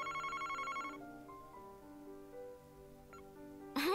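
Ringing of a telephone in the Famicom Detective Club game sounds at the start, a short electronic bell trill that stops after about a second, leaving soft game music and a brief sharp blip at the end.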